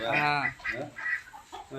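A big rooster clucks close by, a series of about four short throaty calls in quick succession, the first longest and loudest.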